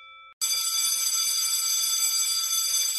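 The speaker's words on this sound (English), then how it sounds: "I'm going to pull the fire alarm." A fire alarm sounds in a school: after a brief steady electronic tone, a loud, continuous high-pitched ringing alarm starts abruptly and keeps going unbroken, close and dominant throughout.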